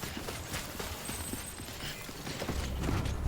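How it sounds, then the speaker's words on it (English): Robotic footsteps of the buddy bot in the Death Stranding video game patter as a rapid, continuous clatter of small mechanical steps, running steadily and growing slightly louder toward the end, with no voices. "There's just robotic footstep noises."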